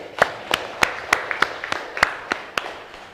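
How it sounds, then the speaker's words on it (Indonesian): Sparse, sharp handclaps from a small audience at a campus session on avoiding alcohol and drugs, about a dozen separate claps scattered unevenly across a few seconds, close and fairly clear. "Sekali lagi kita tepuk tangan untuk bersama-sama"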